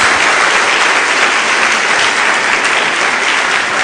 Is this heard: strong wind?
no